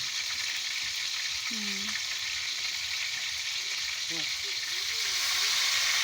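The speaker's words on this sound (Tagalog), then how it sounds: "Nagtalsika na yung mantika." Constant hissing sizzle of fish frying in oil with the oil splattering, close and steady, with a faint voice murmuring briefly in the background.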